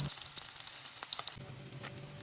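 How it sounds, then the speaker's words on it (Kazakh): Continuous crackling sizzle of onion frying in hot oil until golden, close and steady, with faint stirring pops. "Және қызып тұрған майда жақсылап алтын түстес болғанша қуырып аламыз."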